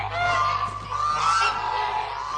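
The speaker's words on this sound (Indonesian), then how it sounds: "Angsa? Aku yakin kau bisa dengar teriakan mereka di seluruh Ponyville." Geese in an animated cartoon honk in a continuous noisy chorus, loud and close, with overlapping harsh calls and no talk.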